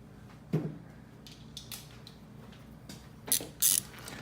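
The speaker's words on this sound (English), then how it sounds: "we're gonna take that bottom 14 millimeter and tighten it" Ratchet snugging the bottom 14 mm alternator bolt on a 2006 Scion: a few sharp metallic clicks spaced out, with a quick pair of bright ratcheting bursts near the end, close and fairly loud against a quiet background.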